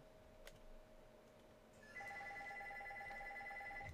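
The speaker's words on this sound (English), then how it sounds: "Please pardon the phone in the background." A telephone rings in the background of a quiet room: a steady, repeating electronic ring that starts partway through and continues, fairly faint and with no talking.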